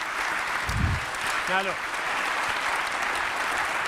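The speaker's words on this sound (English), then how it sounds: "This applause is not actually for you." Audience applause at a PopTech talk, a steady wash of clapping across the whole stretch, with a voice briefly speaking over it.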